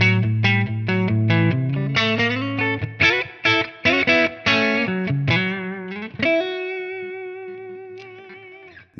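A high-gain electric guitar played through a ToneX capture of a Tone King Royalist MkIII amp: a run of distorted, punchy chords and notes, then a long sustained ringing chord that slowly fades.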